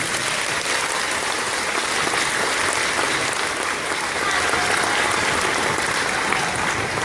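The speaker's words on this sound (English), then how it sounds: "Let's give them all a round of applause." Steady, dense applause from a crowd, loud and continuous throughout with no pauses.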